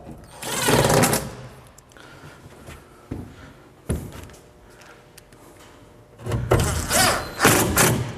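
A power drill driving screws to fix a bath unit in place, two loud whirring bursts at the start and end with quieter clicks and knocks between, close by and without talk.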